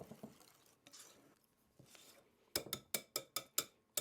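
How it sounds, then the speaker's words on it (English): Flour whisked into lemon cake batter in a bowl for a small cake, with soft swishing at first, then a quick run of sharp rhythmic taps of the whisk against the bowl; no speech. "that whisks up really quickly"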